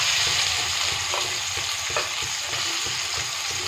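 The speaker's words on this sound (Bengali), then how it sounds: "তো প্রথমে চিংড়ি মাছটা ভেজে নেব।" Small shrimp frying in oil, a dense, steady, close sizzle with faint crackles and occasional stirring taps throughout.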